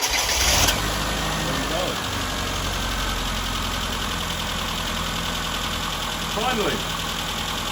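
A Classic Mini engine catches after a start attempt and settles into a steady, slightly uneven idle after nearly two years of sitting, running close to the microphone while a voice speaks briefly over it.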